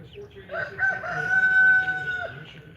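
A rooster crows loudly and close by over a few seconds, with hens clucking underneath in a backyard vegetable garden.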